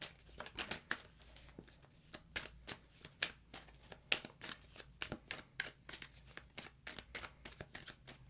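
Tarot cards are shuffled quickly and repeatedly, producing rapid papery riffles and soft flutters in close, uneven bursts.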